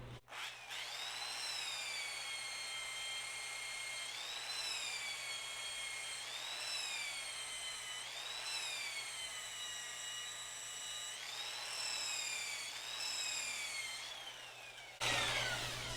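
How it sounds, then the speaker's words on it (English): A high-pitched power drill with a wire brush attachment whines steadily while texturing trim, its pitch rising and falling repeatedly as the load changes, running close and continuously before stopping abruptly. "the slower you're going, the more revolutions of wire brushes you're getting per every inch"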